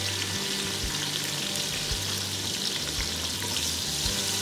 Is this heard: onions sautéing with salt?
yes